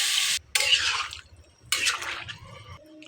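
Hot water goes into a pan of frying ginger in two quick bursts, each a loud hissing splash and sizzle that dies away, with a short quiet gap between them.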